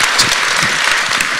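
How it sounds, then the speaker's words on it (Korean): Audience applause after a lecture at a Seoul talk event on mountains and rivers, a dense, steady patter of many clapping hands filling the brief moment, loud and close with no voices over it. "우선 먼저 강의해 주신 우리 선생님께 박수 부탁드리겠습니다."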